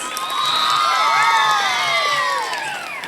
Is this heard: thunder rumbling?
no